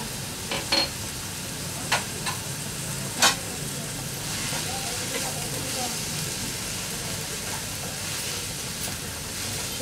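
Ginger garlic paste sautéing in a pan for paneer bhurji, a steady soft sizzle with occasional stirring clinks and scrapes, while someone talks over it.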